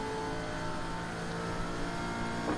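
Race cars on a circuit, a steady loud engine drone at close range with a slight rise in pitch near the end as traffic comes up on track, no talking.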